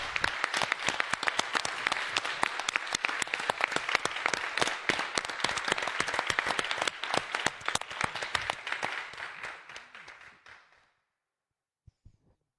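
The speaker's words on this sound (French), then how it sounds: "on peut applaudir tout le monde." An audience at a round table session bursts into brisk, dense applause that carries on for about ten seconds, then tapers off into near silence with a couple of stray claps.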